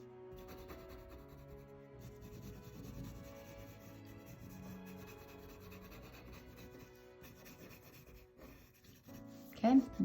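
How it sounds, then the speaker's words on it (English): A pencil drawing of Ludwig van Beethoven is rubbed on paper to blend the shading. The soft, raspy scraping is faint and continuous under quiet background sound and ends with a few louder knocks. "let's give it a good rub"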